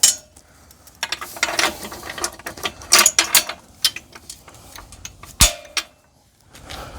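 A strap ratchet on a one-bike hitch rack clicks and clatters in quick bursts of metallic ratcheting, close and loud, separated by short pauses, with one sharp knock near the end.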